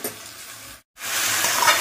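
Mutton sautéing in a pan as it is cooked down kosha-style, a steady close frying hiss with stirring scrapes, briefly cut to silence before the sizzle returns louder.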